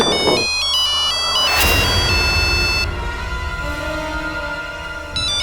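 A phone ringtone plays a melodic electronic tune, loud and close, repeating its pattern for several seconds before ending.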